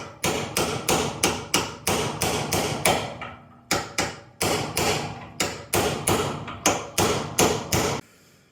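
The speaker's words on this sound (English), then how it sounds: "The hammer method didn't work." Hammer blows strike the door of a 1981 Holden WB ute, landing in steady bursts of sharp metallic thuds, loud and close, with a brief pause after about three seconds before the pounding resumes.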